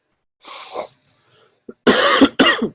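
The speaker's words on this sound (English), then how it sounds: "getting a bad cough because of speaking loudly" Several close, sharp coughs: one, then a pause, then a quick pair of harsh bursts.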